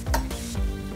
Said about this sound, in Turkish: Şöyle bir karıştıralım.